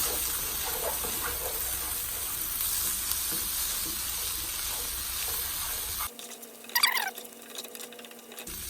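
Onions and meat sizzling loudly in a frying pan for chicken Alfredo, a steady close crackle that drops away abruptly partway through, followed by quieter scraping and stirring sounds.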